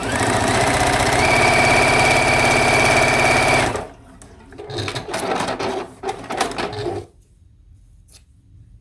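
A sewing machine runs in a steady, fast continuous whir for several seconds while stitching selvage string quilt blocks, then stops, followed by softer handling noises and fabric rustles.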